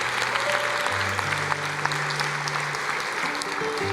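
A church congregation applauds in praise during a lively evangelical service, a steady wash of many hands clapping at moderate distance, with sustained tones from instruments or an organ running underneath.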